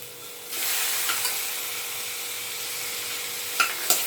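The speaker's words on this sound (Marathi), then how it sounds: "आणि जरा परतून घेऊया थोडा वेळ।" Onion, chilies and tomato sauté in a pan, giving a steady, close hissing sizzle that swells after the first half second and runs continuously, with a couple of sharp utensil clicks near the end and no talk.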